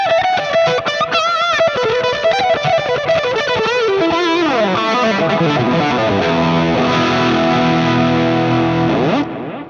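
Electric guitar lead tone from a Fractal AM4 preset, with delay and reverb, plays loud, sustained melodic lines with bends and ringing trailing repeats for nearly ten seconds, with no talking.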